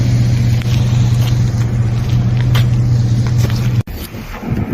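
A truck rumbling steadily along the Denali Highway, a loud, continuous low engine drone with road noise, briefly cutting out near the end before resuming more quietly.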